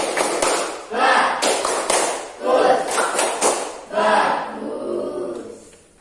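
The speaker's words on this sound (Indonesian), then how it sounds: "Beri tepuk bagus untuk Revi." A classroom of schoolchildren claps out a rhythmic praise chant for a classmate, bursts of patterned hand claps mixed with voices in several short waves.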